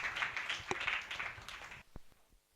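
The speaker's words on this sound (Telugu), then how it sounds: "ఒకసారి మనమందరం కూడా గట్టిగా చప్పట్లు కొట్టి మన ఆనందాన్ని తెలియచేద్దాం" A church congregation in Hyderabad clapping hands together at a Christ Church gathering, with dense sustained applause that cuts off and leaves a few last isolated claps in a quiet room.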